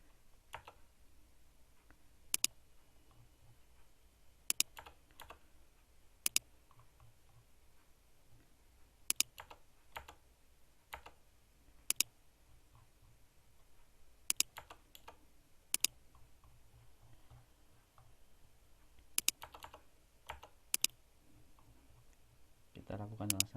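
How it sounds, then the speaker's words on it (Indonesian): Backspace key pressed on a computer keyboard while editing in Microsoft Word: quiet, crisp single clicks at irregular intervals, sometimes in quick pairs, under a person speaking. "Kita langsung backspace saja."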